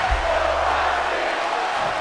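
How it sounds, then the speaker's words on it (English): Arena crowd chanting in the wrestling video game WWE 2K25, a steady roar of many voices that fills the whole stretch at a fairly loud level, with a low rumble at the start. "Crowd chanting, "Let's go, Roxy. This is awesome.""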